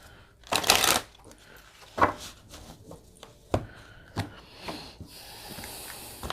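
An Archetypes and Shadows oracle card deck gets shuffled close by, with a burst of riffling followed by several short, separate card flicks and slides in an otherwise quiet room.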